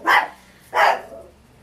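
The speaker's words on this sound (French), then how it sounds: "Je vous présente mon chien qui a aboyé." A dog gives two sharp barks a little more than half a second apart, close and clear, with no talking over them.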